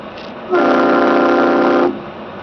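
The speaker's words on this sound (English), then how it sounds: "Had to give them a little train horn, tell them to speed their asses up." A single loud, sustained train horn blast of about a second and a half, sounded from a vehicle on a road near Big Bear Lake, California, over steady background road noise.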